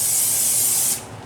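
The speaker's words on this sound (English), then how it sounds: "heat up the pan and use the oil spray" Cooking oil spray hissing from an aerosol can into a heated pan, a close, steady burst lasting about a second before cutting off.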